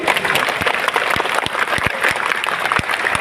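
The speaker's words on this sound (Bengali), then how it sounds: "আমরা তালি বাজিয়ে ধন্যবাদ জানাচ্ছি" A crowd at a protest gathering in Murshidabad claps to thank officials, dense steady clapping with sharper individual claps standing out, loud and close throughout.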